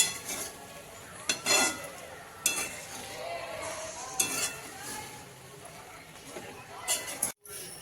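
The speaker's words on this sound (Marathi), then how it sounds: "पूर्ण सगळं करून मिक्स हे आपण सगळं मिक्स करून घेऊ छान चांगलं असं" Ingredients are stirred and mixed in a pan while cooking a quick, soft, savory snack, giving scraping and clinking utensil strokes with a few sharper clatters over a light background sizzle.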